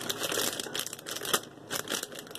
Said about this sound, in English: And I will try to get the bag open.